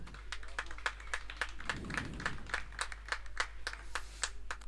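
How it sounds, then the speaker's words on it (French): A pétanque crowd at a national handi-pétanque final in Gy applauding a player, with steady rhythmic clapping from several people while a commentator talks over it. "Dimitri applaudi par le public de J."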